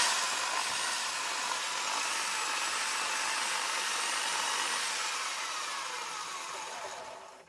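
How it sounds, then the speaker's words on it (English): Honing out the bore of a seized rear brake caliper from a Rover 75: a steady, close abrasive whirring grind that holds for several seconds, then fades. "As you see there, we were honing it out."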